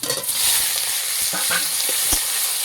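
Bathua greens tossed with garlic and dried chilli in hot oil, a loud continuous close sizzle with scraping stirs of a spatula against the pan, no voices.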